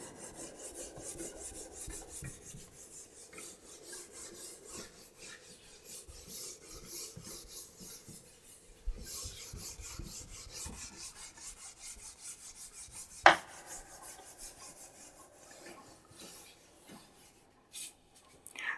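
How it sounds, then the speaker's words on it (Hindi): Chalk or a duster rubbed back and forth across a classroom board to erase written work, a steady close scraping rasp running throughout with one sharp knock partway through, no talking. "ये सब रब कर रहा हूं मैं, सारा रब कर रहा हूं मैं"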